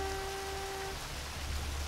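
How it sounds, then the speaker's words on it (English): Steady patter of rain in the video game Firefighters 2014, a soft broadband hiss that fills the whole stretch at low level, with a faint tonal hum fading out partway through. "Oh, it's raining."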